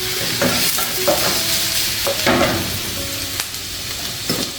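Coconut oil sizzling loudly in a heated pan, a close, steady crackle broken by scraping stirs and spoon clinks.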